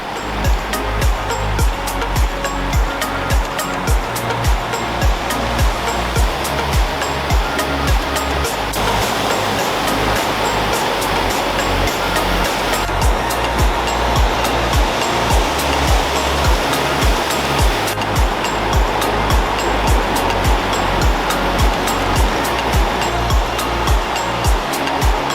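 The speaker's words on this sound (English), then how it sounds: "It's gonna be hard to hear me just because of how loud it is, but it's a cool waterfall." Small Falls, a waterfall in Wallace Falls State Park, roars loud and close in a constant, dense rush of falling water that drowns out everything else for the whole stretch.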